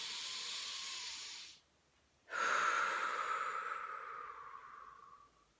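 Two long, breathy exhalations sound close up in a quiet room, with a brief silent pause between them. The second breath is stronger and slowly fades away.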